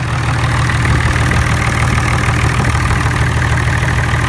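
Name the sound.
IH Farmall 560 tractor engine running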